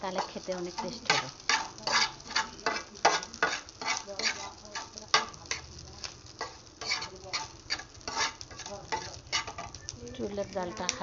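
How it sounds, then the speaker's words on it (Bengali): Small fish heads crisping slowly in a pan on a low flame, with a close, quiet sizzle and frequent sharp crackles and spatula scrapes in an uneven rhythm and no voices. "হালকা এবং মৃদু মৃদু আছে ভাজি করব, তাতে মাছটা আস্তে আস্তে মচমচা হবে"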